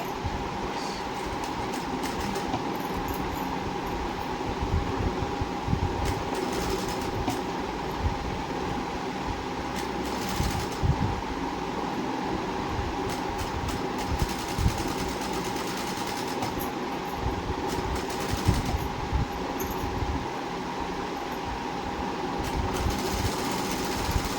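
A sewing machine stitches a lined blouse in fast, steady bursts, a close rhythmic mechanical whirr that briefly slows or pauses between runs, heard without any talking.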